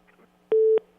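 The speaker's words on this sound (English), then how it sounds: "every time you hear one of those little things, that's somebody trying to call through on that phone line" A single electronic beep on a studio telephone line signals an incoming call, one steady tone lasting about a quarter second, clear and loud over quiet background hiss.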